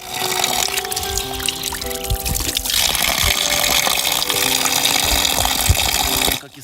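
Steady splashing and trickling of mountain spring water runs continuously at close range with faint background tones, then cuts off abruptly at the end.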